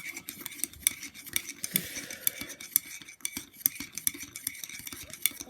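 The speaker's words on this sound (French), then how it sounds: "Voilà, je mélange. Excusez-moi, ça va faire un peu de bruit." A spoon clinks repeatedly against the inside of a cup while stirring sugar into tea, a quick, steady rhythm of light metallic taps, close and fairly quiet.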